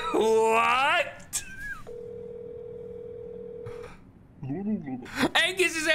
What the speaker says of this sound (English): I dialed 1425. And Angus answered